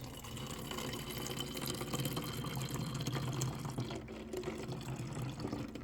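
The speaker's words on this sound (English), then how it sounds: "I'm going to go ahead and fill the rest of this up with some cold fridge water" Cold fridge water pours into a 28-ounce spray bottle, a faint continuous trickling and gurgling fill that runs steadily throughout with no talk.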